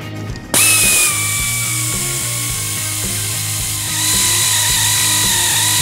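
A power tool drives sway bar bolts back in on a car's subframe, a loud, steady mechanical whir near at hand that carries on without a break, with a faint rhythmic ratcheting pulse underneath.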